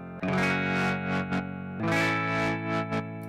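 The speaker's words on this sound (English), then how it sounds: "It gives it this little distortion like filter effect, and it's real rhythmic" Music run through a Cableguys DriveShaper rhythmic distortion filter, sustained gritty tones sweeping open and shut in pulsing waves, two longer phrases with a brief gap between.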